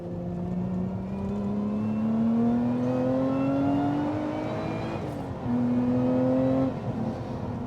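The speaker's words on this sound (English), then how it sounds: "You can sort of hear the supercharger whine above." Lotus sports car accelerating on the road, a steady engine drone carrying a rising supercharger whine that climbs in pitch, dips briefly, then holds loud and close throughout.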